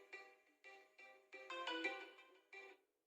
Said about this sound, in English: my phone started ringing